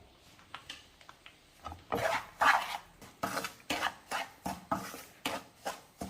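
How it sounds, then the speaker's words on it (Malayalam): Semolina (rava) stirred in a hot pan as it roasts: a steady series of dry scraping rasps, close and fairly regular, with no talking. "ചൂടായ ഒരു പാനിലേക്ക് റവ ഇട്ട് കൊടുക്കാം"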